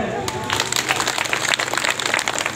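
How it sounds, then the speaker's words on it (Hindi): An audience at a sermon gathering breaks into applause, a dense, steady wash of clapping that swells after a moment and holds, with voices talking over it. "तालियां बनती है"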